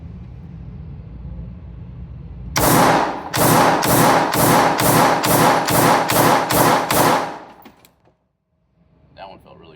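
Nine loud, close pistol shots from a Springfield Prodigy Comp firing 147-grain Badlands ammunition come in a quick, even string, followed by silence and a faint rustle.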